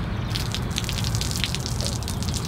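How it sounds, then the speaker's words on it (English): Rainwater dripping and trickling behind the wall of an RV outdoor kitchen, a steady close splattering wash with scattered drips, no voices. "What happens is the water goes back behind there and it leaks down in here."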